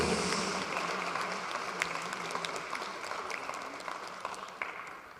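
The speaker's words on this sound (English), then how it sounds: "Can we unleash a second round of applause?" Audience clapping after a guest of honor's address at a launch and fundraising event, a moderate crowd applauding in a continuous patter with a few sharper claps, gradually fading.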